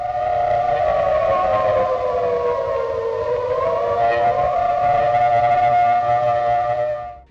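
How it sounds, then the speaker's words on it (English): A World War II air raid siren wailing over London, one long loud mechanical tone that dips slightly in pitch midway, then rises and holds before cutting off abruptly. "The air raid sirens that wailed over London during World War II were far more than mechanical devices"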